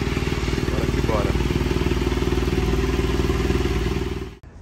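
A motorcycle, being serviced at home before a long trip, idles steadily up close with a loud rhythmic engine thrum, then cuts off abruptly near the end.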